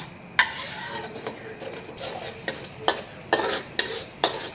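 A spatula stirs garlic and other ingredients in a dry pan, scraping and tapping the metal in several distinct strokes over a low, steady background hiss, close up with no talking.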